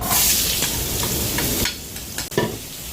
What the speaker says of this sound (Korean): 여러분 좋아하시는 야채 볶는 시간이 왔습니다.